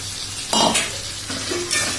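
About a kilogram of goat mutton goes into hot spiced oil that has begun to separate, hissing loudly as it is stirred, with brief bursts of clattering sizzle up close and no talking.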